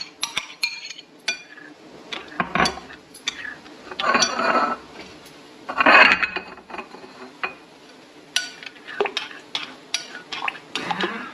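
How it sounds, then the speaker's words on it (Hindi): A spoon stirs curd into mashed bottle gourd for raita in a bowl, with scraping, clinking strokes against the dish in uneven bursts, close and moderately loud, with no talk. "ये इस तरह अच्छी तरह मिक्स करनी है चम्मच से"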